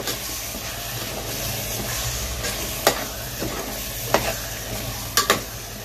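Onion and tomato masala for paneer masala is stirred in a hot pan, with a steady close sizzle under a few sharp scraping clicks of the spoon against the pan.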